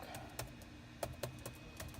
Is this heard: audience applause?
no